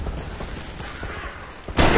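A single loud, sharp blast from an M200 sniper rifle in the online multiplayer shooter Homefront, erupting abruptly at the very end after a stretch of low game ambience.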